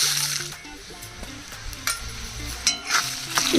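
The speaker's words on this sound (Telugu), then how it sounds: "ఇదిగోండి ఆయిల్ వేడైంది ఇప్పుడు ఎండుమిర్చి వేసుకోవాలి" Dried red chillies fry in hot oil in a kadai, a steady sizzle with scattered spoon scrapes and clinks as they are stirred, close and fairly loud.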